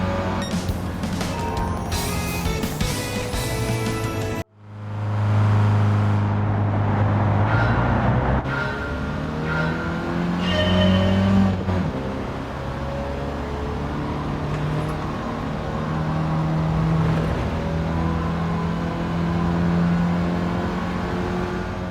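Engine of a 1985 Autobianchi A112 Abarth in a driving video game license test, a steady revving drone that rises and falls through gear changes, mixed with game music, loud and continuous after a brief cut.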